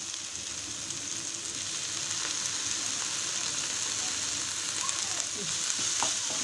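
Mushroom masala with ginger garlic paste sautéing in a pan, a steady continuous sizzle and frying hiss close up with faint stirring scrapes throughout.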